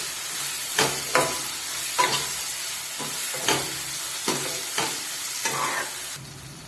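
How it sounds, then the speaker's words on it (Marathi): Sambar vegetables with coriander fry in a pan under steady sizzling, while a spoon stirs them with about seven separate scraping strokes spaced unevenly. No one speaks. "हे 2 मिनिटं चांगलं हलवायचं आहे."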